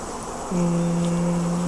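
A steady, close buzzing hum of honeybees at a hive starts partway through and keeps going unbroken.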